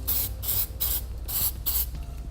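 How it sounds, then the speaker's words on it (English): An aerosol spray paint can coats bare metal on a 2016 vehicle's frame where a Roadmaster crossbar-style base plate mounts, giving five close, even bursts of hissing spray in a steady rhythm, each lasting around a quarter second. "it's a good idea to take some spray paint"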